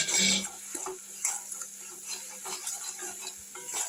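A spoon scrapes and clinks against a pan while spices are stirred and sautéed with shol fish and raw mango paste, giving an irregular series of close scraping strokes over a soft sizzle.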